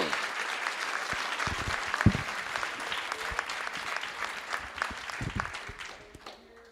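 A crowd at a school board meeting applauds a state bronze medal tennis team, with sustained clapping that holds steady and then tapers off near the end.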